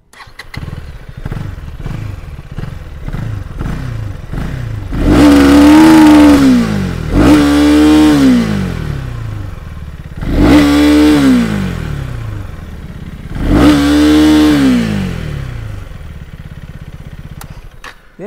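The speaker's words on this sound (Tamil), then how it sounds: "ஒரே ரேட்டை நான் த்ராட்டல் பண்ணி காமிக்கேன், எப்படி இருக்குன்னு பாருங்கள். வண்டியோட த்ராட்டல் இப்போ பாருங்கள்." A motorcycle idles with a quick, even putter, then the throttle is twisted four times. Each twist brings a loud rev that rises and falls back to idle, with short pauses between the revs.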